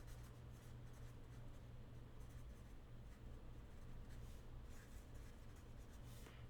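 Hand writing an algebra equation, continuous close scratchy pen or pencil strokes with a faint steady hum underneath, no talking.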